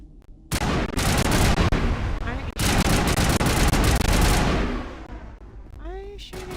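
Sustained bursts of rapid gunfire from the Mass Effect video game, loud and dense for several seconds before tapering off, with a voice briefly speaking near the end.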